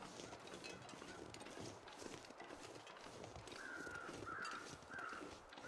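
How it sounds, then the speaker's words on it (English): Crows caw in the snowy survival game The Long Dark, three hoarse calls late in the clip over a steady windy background, faint and somewhat distant, no talk. "So those crows are actually marking the corpse that is telling me where this thing is."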